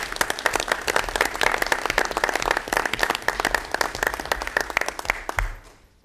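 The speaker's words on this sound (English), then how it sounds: "we'd like to give you a round of applause" Audience at a township board of education meeting gives a round of applause, loud, dense clapping sustained for about five seconds before fading out at the end.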